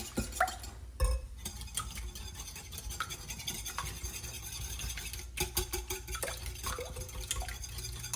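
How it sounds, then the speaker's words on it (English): Eggs beaten for an Italian keto frittata with a whisk against a bowl, a quick steady clatter of scraping and tapping, faint and close, with no voices. "whisk our eggs"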